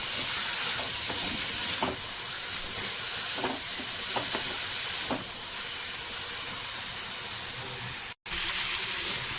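Onions fry in hot oil with a steady broadband sizzle and hiss, close and fairly loud, broken by a few faint clinks and one brief cut near the end, with no talking.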